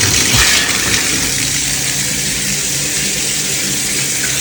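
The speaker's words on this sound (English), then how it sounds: "barely getting any flow there at all" Water runs steadily from a Delta 1400 series shower with a fault causing barely any flow, a constant loud hiss and spatter with a low rumbling undertone throughout, no talking.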